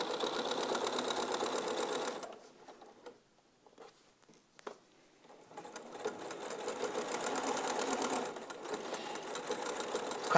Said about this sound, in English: It's quite therapeutic watching somebody else sew.